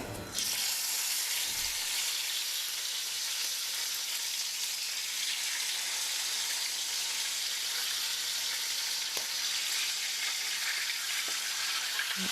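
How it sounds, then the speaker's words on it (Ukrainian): Paddlefish sizzles and crackles steadily in a hot pan, a constant loud hiss with occasional pops, close by. "Рибу обсмажую з двох боків приблизно по 4 хвилинки."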